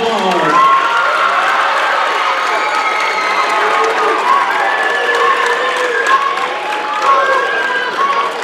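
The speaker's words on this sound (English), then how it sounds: "let's give your Super Bowl champion JV team another round of applause" A crowd claps and cheers loudly at a 2018 youth football league awards ceremony, honoring a junior varsity championship team. Children shout and whoop throughout the steady applause.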